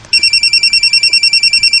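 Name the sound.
mobile phone ringing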